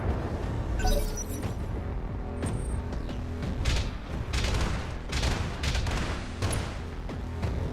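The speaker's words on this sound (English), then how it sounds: "Luckily, that is an autocannon turret and decided to take a horrible shot." An autocannon turret firing in the mech strategy game BattleTech: a sustained rumble of heavy booming shots and impacts, repeated thudding blasts with crackling debris, loud and continuous throughout.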